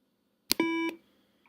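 A coded electronic device sounds a beep tone at middle E: a short click, then a steady pure electronic tone lasting about a third of a second, clear and close with no voice.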